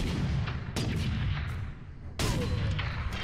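Two heavy, booming shots from a stalker bolter, a sniper-style rifle in a video game, each a sharp crack with a rolling tail, amid constant battle noise.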